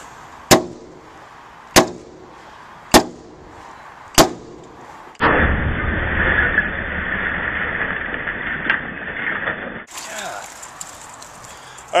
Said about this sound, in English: it took, I don't know, 5 or 6 swings with the hammer before he could actually break through it